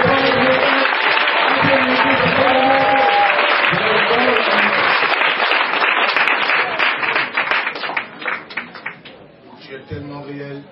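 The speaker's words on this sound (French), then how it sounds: "Avec un tonnerre d'applaudissements." A roaring round of applause from a church congregation, dense and loud at first, then thinning into scattered claps before fading as a voice comes in near the end.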